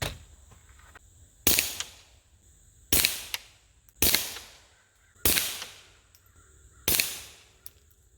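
Ruger Mark IV 22/45 pistol firing CCI Mini Mag 40 grain copper-plated round-nose .22 rounds at a range: five loud, sharp shots spaced about a second or more apart, each with a quick decaying echo, over quiet outdoor background.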